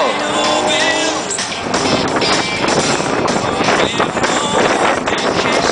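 Drift car at a drift show, engine roaring and tyres screeching steadily, heavily buffeted by wind noise on the microphone, loud and continuous.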